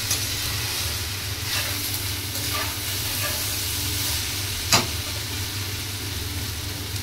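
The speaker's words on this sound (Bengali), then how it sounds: "এই যে আমি ঘি একটু দিচ্ছি, দেখতে পাচ্ছ তো, আমি একটুখানি ঘি দিয়ে দিলাম।" Ghee hits a hot pan and sizzles with a steady, close hiss that holds throughout, broken by one brief clink.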